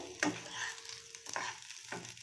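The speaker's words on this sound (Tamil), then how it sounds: "அந்த எண்ணெய் லைட்டாக சூடானனையும் நம்ம வச்சுருக்கிற மசாலா ஃபுல்லாக போட்டுக்கலாம். நல்லா வணக்கிக்கணும்." Ground masala fries in lightly heated oil in a kadai for a home-style village chicken curry, a soft close sizzle broken by a few stirring scrapes.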